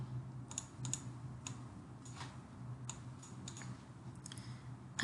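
Sparse keystrokes on a computer keyboard while drafting a mass timber office building model, quiet scattered clicks in small bursts over a steady low hum.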